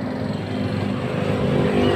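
A truck engine idles steadily after a timing gear repair, its running smooth and continuous at close range with a dense low rumble and no talk over it.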